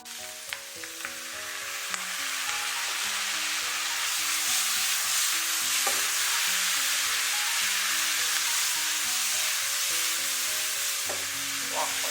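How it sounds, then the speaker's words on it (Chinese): Beaten egg bits, onion and sliced green and red pepper sizzle loudly in a hot wok over high heat, a steady close hiss with light scraping from stirring and no speech. "再把鸡蛋碎给倒进来，青红椒片也给倒进来，继续开大火给它翻炒"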